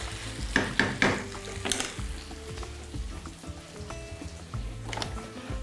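Chicken breast pieces and eggplant stir-frying in a pan for a Thai-style dish, giving a steady soft sizzle with a few sharp scraping stirs near the start, close and moderately quiet.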